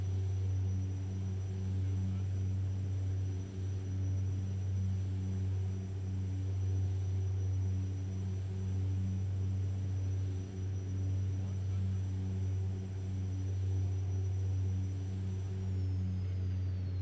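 A de Havilland Dash 7-150 four-engine propeller airliner in the X-Plane 11 flight simulator drones with a steady, low engine hum and propeller throb that stays constant and fairly loud, with no voice over it.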